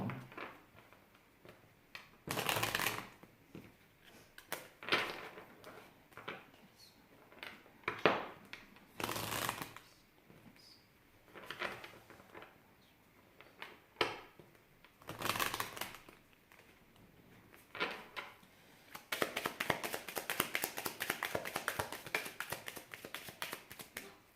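Small tarot cards are shuffled close up in repeated bursts of riffling and flicking, separated by short pauses, ending in a longer, denser run of rapid card slaps.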